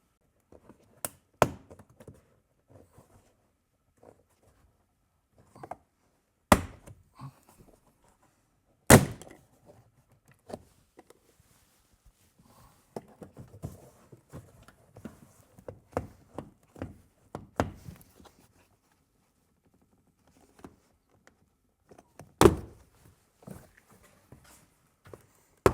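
Prying a door panel off a Toyota 4Runner door: scattered sharp plastic snaps and knocks come close up at irregular intervals, with faint handling rustles and small clicks between them.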